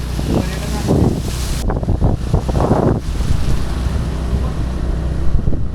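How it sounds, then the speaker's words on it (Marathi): A small waterfall at Ekiv near Satara roars with a steady broadband rush, heavily buffeted by wind gusts across the microphone throughout. "तुम्ही हा सातारचा छोटा धबधबा बघू शकता."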